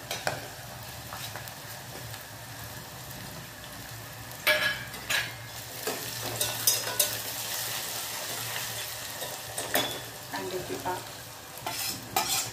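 Green chillies scorching in a hot pan for Khandeshi brinjal bharit, a steady frying sizzle punctuated by repeated scraping stirs and spatula clinks, close and without talk.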